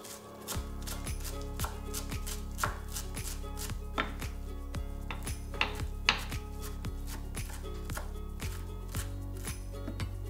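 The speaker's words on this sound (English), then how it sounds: "And then I'm going to mince up the rest of this." Knife mincing herb leaves on a cutting board for shrimp scampi, a steady run of quick, crisp chops, close and fairly loud, with no talking.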